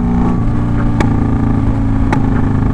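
A motorcycle's exhaust gives two sharp, loud pops like gunshots, about a second apart, over a steady rumble of idling and revving engines nearby.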